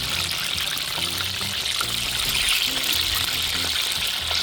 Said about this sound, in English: when we're frying the fish